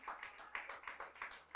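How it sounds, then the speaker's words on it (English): Audience applause for semi-finalists at a competition event, a short burst of many hands clapping steadily in dense rhythmic waves, moderately loud and close, with no talk over it. "Let's put our hands together for our 10 semi-finalists"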